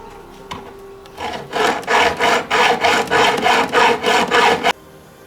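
A hand saw cuts through the timber of a beehive division board clamped to a work surface, with about eight rhythmic rasping strokes, close and loud.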